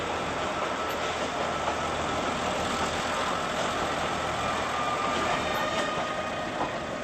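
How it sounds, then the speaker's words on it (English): Tourist train of rail cars running to Machu Picchu in Peru, a loud continuous rumble and rattle of wheels on track with faint clacking, steady throughout and close by. "This is the main tourist service using a fleet of rail cars."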